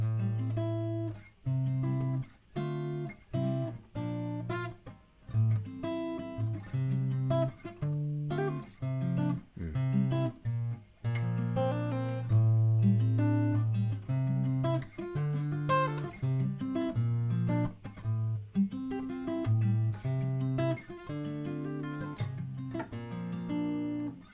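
Guitar with a capo fitted on the neck, playing a song: a steady run of close, clearly picked chords and single notes that ring on without pause, with no voices.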